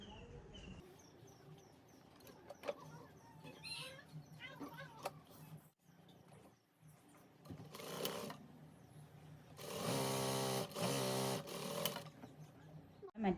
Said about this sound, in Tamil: கையை வந்து முதல்ல வந்து முன்னுக்கு வந்து மடித்து தைப்போம்